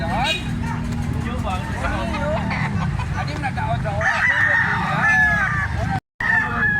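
A rooster at a busy Carbon market in Cebu crows in a long rising call amid a dense crowd murmur, with other fowl clucking nearby and people talking throughout.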